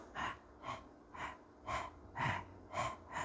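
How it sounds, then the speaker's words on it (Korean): A person breathing in a demonstration during a talk on yogic cleansing practices, with about seven steady, audible breaths in an even rhythm, close and clear with no talking. "이렇게 숨 쉬고 있잖아."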